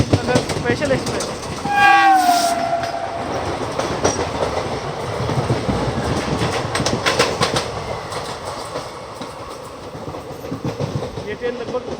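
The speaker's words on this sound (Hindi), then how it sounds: "Crossing Rajkot Vaishnonagar special express." A Rajkot Vaishno Nagar special express train passes close by, a dense rumble of wheels and clattering carriages with a short horn blast near the start, heard from aboard a moving train, with a voice briefly talking.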